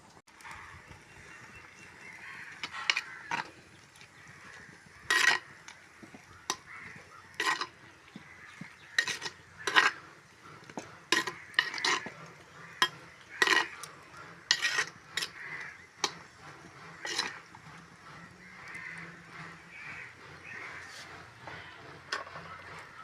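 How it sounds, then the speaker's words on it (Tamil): Drumstick leaves go into a pot of boiling coconut milk curry. A utensil clinks and scrapes against the pot in scattered, irregular knocks over a soft simmering background, with no talk. "இப்போ நாம் துப்புரவு பண்ணியிருக்கிற முருங்கை கீரையை நாம் இதுக்குள்ளே போட்டுக்கொள்வோம்"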